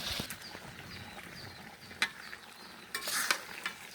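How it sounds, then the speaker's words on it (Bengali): Beef pieces stirred with spices in a pan, a soft scraping and sizzling texture with a few sharper clinks of the spoon, fairly quiet and steady throughout. "এই যে এখন মাংসগুলো দিয়ে ভালোভাবে নেড়ে চেড়ে নেবে"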